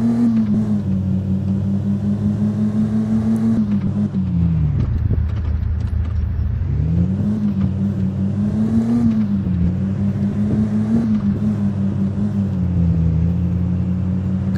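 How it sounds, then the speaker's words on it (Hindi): A car pushes through water in the Indian Car Simulator mobile game, a steady droning engine hum that dips and rises in pitch as the vehicle struggles along, continuous and close. "ओहो, यहाँ पर पानी के अंदर हमारी गाड़ी चली गई है"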